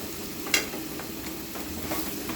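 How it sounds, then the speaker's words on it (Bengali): A spoon mashing soft taro stems in a pan of simmering taro stem curry with hilsa fish head, giving a soft, steady sizzle with light scraping taps and one brief clink. "সবগুলো মিক্সিং যেগুলো কচু হালকা আস্তে আছে সেগুলোকে চামচ দিয়ে গলিয়ে দেওয়া হচ্ছে"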